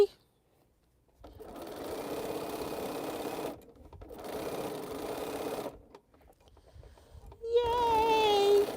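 A sewing machine stitches long seams across quilt rows in the middle of a quilt, running in two sustained bursts separated by short pauses, then starting a third run as a tonal, voice-like sound enters.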